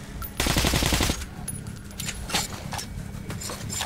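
Automatic gunfire from the video game Metro: Last Light, a loud rapid burst of around a second followed by scattered shots, clanks and game noise, with some voices faintly underneath.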